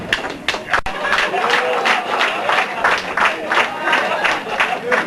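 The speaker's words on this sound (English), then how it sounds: "Can we have a round of applause for Mr." Wedding guests applauding for Mr. Levy, a dense wash of many hands clapping with a few sharper individual claps, steady and fairly loud throughout.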